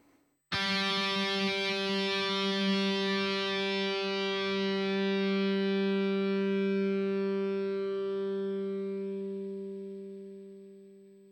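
One distorted guitar chord struck through a Solar Chug pedal at its gate setting, ringing loud and sustained for about ten seconds, then tapering smoothly as the gate begins to close, with no talking.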